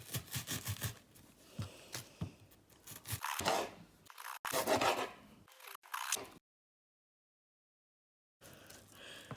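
A knife slices through an onion on a cutting board, with a run of close, crisp cutting and scraping strokes, then a stretch of silence before faint sounds return.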